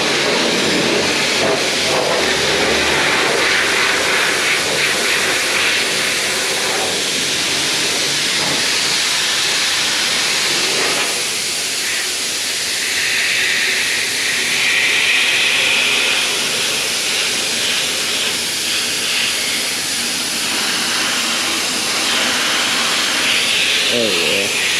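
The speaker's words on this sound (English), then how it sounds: "So let's get the power washer going. Pressure, got it on high pressure rinse so that it can blast it right off." A power washer on high-pressure rinse blasts continuously at close range, a loud steady hiss of spraying water that shifts in tone as the jet moves across the surface.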